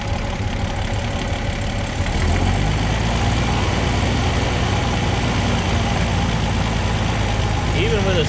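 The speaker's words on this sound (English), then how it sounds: "I'm at a fairly low idle, and I'm doing about 19 to 20 volts there. And then upon acceleration" A pre-war Rolls-Royce engine with a three-brush charging system ticks over at a low idle, then swells to a louder, fuller roar as it accelerates, heard up close.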